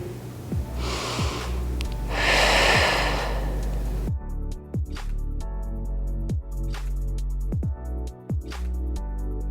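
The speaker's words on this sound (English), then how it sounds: "Turn your chest as far as you can go, the opposite way, and then just breathe." Deep breaths taken during a seated twist stretch: a couple of long, close, airy inhales and exhales, followed by quieter moments with faint ticks and a low hum.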